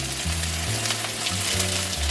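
Vegetables frying in a pan on a stovetop, a steady close sizzle and crackle running throughout, with a low rhythmic hum underneath, no talking.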